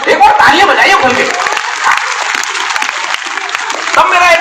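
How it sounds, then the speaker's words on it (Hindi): An audience at a Hindi comedy poetry event at a college applauds, loud and continuous clapping from a crowd close by, with a little laughter mixed in. "एक बार तालियां बजाइए खुल के।"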